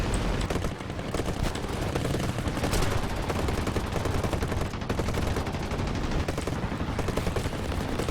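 Aircraft machine guns fire in continuous dense bursts during a War Thunder air battle, loud and sustained throughout with no speech.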